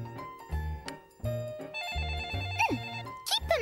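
A cartoon telephone rings in repeated bright electronic trills, loud and close, with springy comic sound effects near the end.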